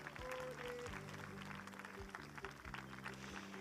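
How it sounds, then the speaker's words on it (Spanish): Audience applause for the festival queen at the Tāpati Rapa Nui night celebration, steady clapping carried over continuous music with tonal bass lines and percussive hits. "Fuerte aplauso, querido público, para nuestra reina"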